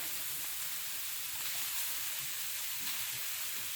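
Sausage sizzles in a hot pan, a steady, close frying hiss with faint crackles and no voices.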